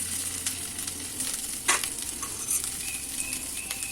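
Chilli, asafoetida, ginger paste, cumin powder, salt, sugar and turmeric sizzle together in a pan for cabbage paratha, a steady close hiss broken by a few sharp pops and spoon scrapes, with no talking.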